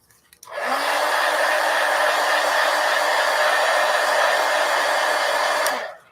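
Hair dryer blowing on a piece of collage artwork, switching on with a rising whir, holding a loud steady roar for about five seconds, then cutting off.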